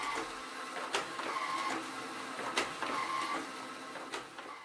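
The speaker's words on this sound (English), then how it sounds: "Now press the green button to begin processing." A Formax FD 1202 folder-sealer processing printed forms, giving a steady mechanical whir with sharp, periodic snaps roughly every second as each form passes through, moderately loud and close.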